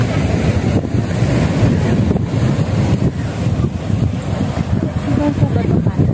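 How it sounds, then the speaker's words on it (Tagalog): Ocean waves roar steadily on a rocky Sri Lankan shore with heavy wind buffeting the microphone, a continuous low rumbling wash with no pauses. "Kaso malakas alon doon."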